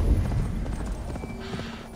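Horse hooves from the video game Assassin's Creed Valhalla, a steady rapid clip-clop of galloping over continuous game ambience and music, loud and close, lasting about two seconds.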